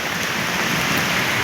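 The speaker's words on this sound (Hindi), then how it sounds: "अब बारिश हो रही है, मूसलाधार बारिश आप देख सकते हैं कितनी तेज़ हो रही है" Heavy monsoon rain pours onto a road in a dense, steady hiss, loud and unbroken throughout with no voices.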